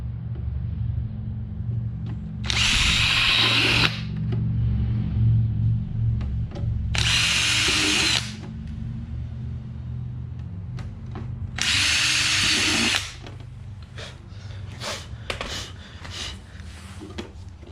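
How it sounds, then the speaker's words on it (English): A hole saw on a power drill bores into a Honda Ruckus battery box in three loud, sustained whining bursts of one to two seconds each, separated by a low idle hum and scattered small clicks and knocks. "all these holes so that I don't ruin the battery box basically with this hole saw kit"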